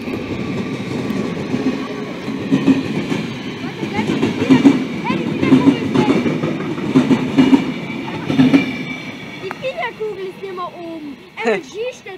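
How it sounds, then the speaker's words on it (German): An express train passes on the line at Rosenbach, with rhythmic wheel clatter over rail joints and rolling carriages, fairly close, while people talk over it and a brief squeal rises near the end. "der Schnellzug wird gleich kommen"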